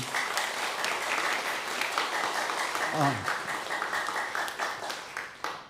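A church congregation at a Taiwanese-language worship service applauding, dense sustained clapping from many hands filling the room, with voices murmuring underneath and a brief vocal sound midway.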